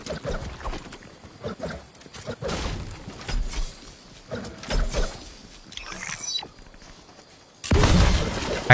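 Gunfire in Fortnite build-mode gameplay: several sharp cracks and bursts scattered irregularly, mostly at mid distance, ending in a louder, denser stretch of shots.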